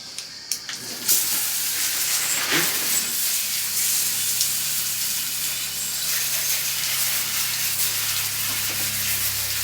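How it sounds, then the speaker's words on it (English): A hose spraying water over a bike to rinse it, producing a steady broad hiss after a few brief clatters at the start, close and continuous with no talk. "We just got to hose it off."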